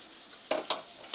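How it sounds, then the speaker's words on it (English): Soft frying hiss with a few louder bursts of crackling sizzle, close by, no voices. "You are sizzling over there."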